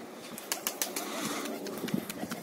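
Pigeons flying up with a flurry of rapid wing flaps, soft bursts and claps close by, then fainter fluttering as they move off.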